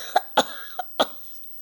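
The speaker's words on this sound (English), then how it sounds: "I start to coughing now." A person coughs four times in quick, uneven succession, each cough short and close to the microphone, with near silence between them and no speech.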